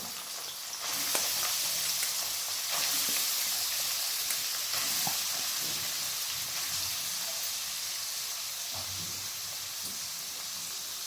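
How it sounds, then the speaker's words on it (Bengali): Steady hissing sizzle of soybean chunks frying in hot mustard oil in a kadai, continuous and close, with a few faint clinks and no talking. "কড়াইয়ে সর্ষের তেল গরম হওয়ার পর আমি সয়াবিনগুলো দিয়ে দিলাম।"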